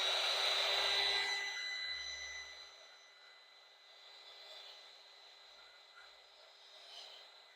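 A hair dryer blows over a watercolor painting, a loud steady whir at first that drops to a fainter, wavering hum as it moves away.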